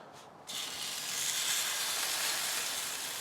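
Ribeye steaks hit a hot griddle and set off a loud, steady sizzle that bursts in abruptly and holds as a dense, even hiss, with no voices.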